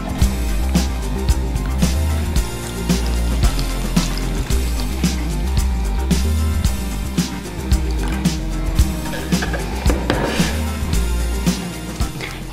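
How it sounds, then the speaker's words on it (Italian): Water being poured into a container for a home science experiment with floating paper flowers, a steady close pouring and filling splash with bubbling gurgles throughout, no talking. "Innanzitutto metto dell'acqua."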